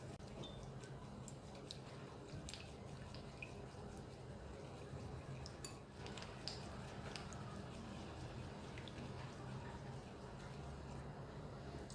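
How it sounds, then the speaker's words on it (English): Spoon stirring baking soda and apple cider vinegar in a small container, a steady run of light ticks and taps over a faint fizzing, close and quiet throughout. "And then I'm going to stir this."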